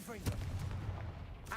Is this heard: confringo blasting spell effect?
yes